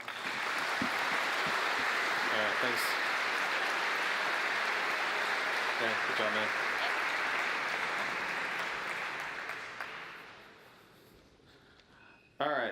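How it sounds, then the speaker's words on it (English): A tech conference audience gives sustained applause that holds steady for about ten seconds, then fades out, while a few voices speak briefly over it. "Give these guys a big round of applause."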